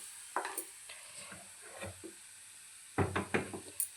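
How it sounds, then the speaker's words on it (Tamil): Ingredients being sautéed in a pan for mutton paya, with quiet sizzling under intermittent scraping and knocking strokes of a utensil, which grow denser and louder toward the end. "இன்னும் கொஞ்சம் நேரம் வதக்கி விடலாம்"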